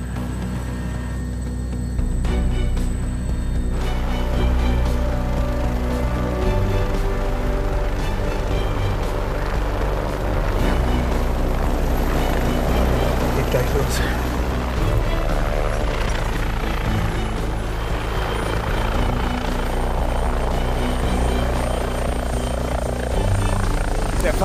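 A mountain rescue helicopter coming in to land, a loud, close, continuous rotor thump and turbine drone filling the whole stretch, with voices talking underneath.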